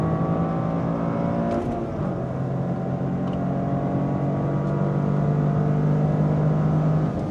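A 2026 Toyota GR Corolla accelerates hard out of a track corner, its engine note steady and loud up close, rising as it pulls, with no talk over it.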